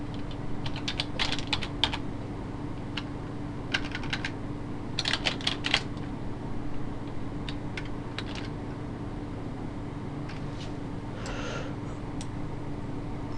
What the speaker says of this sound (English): I'll just type in admin.